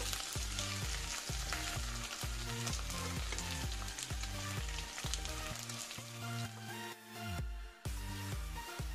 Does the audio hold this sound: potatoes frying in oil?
yes